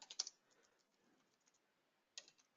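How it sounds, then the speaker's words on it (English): Short bursts of quick computer keyboard typing, a cluster of clicks at the start and another near the end, quiet and close with near silence between. "I'm just typing one in"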